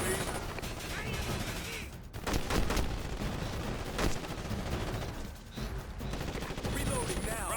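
Sustained rapid gunfire from the video game Ghost Recon Advanced Warfighter 2 rattles in dense, loud volleys with brief lulls, mixed with combat effects and radio-style voices.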